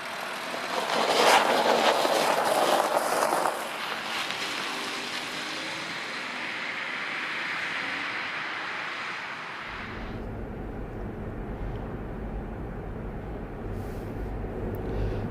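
Steady road and engine noise from a Ford Tourneo Courier with a 1.0-litre three-cylinder 100 hp EcoBoost petrol engine on the move, a broad rushing hiss that shifts to a deeper, lower drone partway through.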